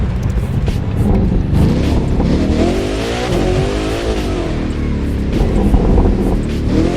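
A Koenigsegg Jesko engine in the video game The Crew 2 revs and drones steadily with a roaring exhaust, pitch rising and falling through gear changes, mixed with rushing wind noise.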